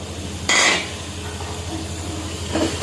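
Masala powders for chicken biryani are stirred in a pan with tomatoes: a soft background hiss with a sharp spoon scrape near the start and another toward the end, close by and without speech.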